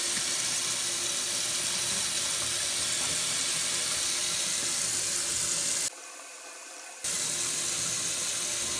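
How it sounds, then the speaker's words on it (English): A faucet turned on full, water pouring steadily into a sink in a home hot-water test, a constant rushing hiss that briefly drops out before resuming. "Let's start the clock as soon as I turn the water on full."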